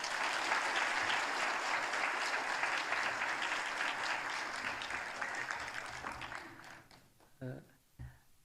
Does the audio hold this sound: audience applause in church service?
yes